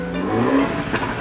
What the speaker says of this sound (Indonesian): Ya itu suara knalpot roket yang berisik sekali memang ya.